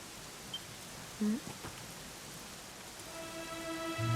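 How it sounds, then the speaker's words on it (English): Steady, soft rain falls in the video game Dragon Quest XI, a faint even hiss with a brief low blip partway through and musical tones rising near the end. "it was raining like this"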